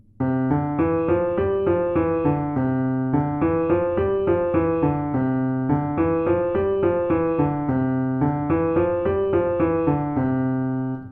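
A guitar plays a fast, repeating shredding pattern of notes in steady cycles, clear and close with no talking.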